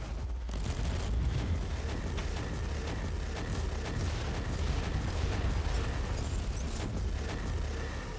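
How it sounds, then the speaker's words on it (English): Explosions and gunfire rumble through a video game battle, a dense continuous barrage of blasts and booms with a grenade going off amid the chaos. "Grenade! Grenade! Grenade!"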